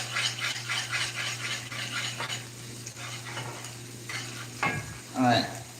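Whisk scraping and stirring grits in a pot for shrimp and grits, in steady repeated strokes with a soft sizzling bubble beneath, close and moderately loud, ending in a brief clatter of the whisk against the pot.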